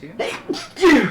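Several short, close sneezes in a row, the last one the loudest and most forceful, with no talking between them.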